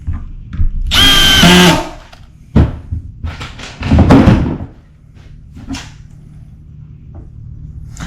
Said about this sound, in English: That's the clutch engaging.